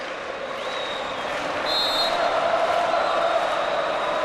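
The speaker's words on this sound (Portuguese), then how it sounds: "Canta bonito a torcida do Maracanãzinho" A continuous roar of Brazilian fans singing and cheering in the Maracanãzinho arena at the 2007 Pan American Games volleyball final in Rio against the USA, rising slightly in the middle and holding loud and steady throughout.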